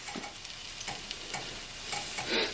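Meat for pot roast searing in hot oil in a pan, a steady close crackling sizzle with soft scraping stirs and a louder burst near the end, with no talking.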